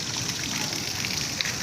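Rainwater runs through a waterlogged street in steady, continuous trickling and flowing noise, close by and moderately loud, with no voices over it.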